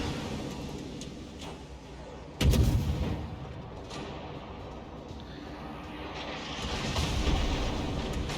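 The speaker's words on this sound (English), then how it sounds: "Those are battleship HE shells coming in" Battleship high-explosive shells land in the World of Warships game, with one sharp, heavy boom standing out over a rumbling background of distant gunfire and a later swell of noise.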